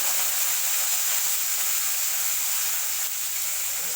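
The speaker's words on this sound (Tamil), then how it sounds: "கடுகு சீரகம் வெந்தயம் நல்லா பொரியணுங்க இந்த ஸ்டேஜில் கருவேப்பிலை போட்டு" Mustard seeds, cumin, fenugreek and curry leaves frying in hot oil in a kadai for drumstick and brinjal sambar, giving a steady, loud, even sizzle and hiss with no voices.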